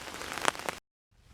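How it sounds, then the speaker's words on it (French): Rain patters on the ground in the woods for a moment with a few louder drops, then it cuts out suddenly and returns faintly. "Donc il pleut toujours"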